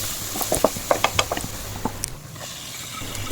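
Crushed garlic, green chili and salt are stirred and mixed in a pan, giving a quick series of sharp scraping clicks and knocks close by, then a quieter stretch.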